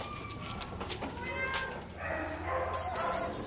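Cat meows at an animal shelter in Texarkana, a few plaintive calls under a person's soft voice, with background noise and higher-pitched sounds near the end.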